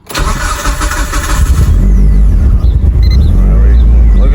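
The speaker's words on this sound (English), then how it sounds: "try to get this car to fire up" A Mitsubishi Evo engine cold-starts with a cranking burst, then catches into a loud, steady, rumbling idle close by, with a few revs rising over the low drone.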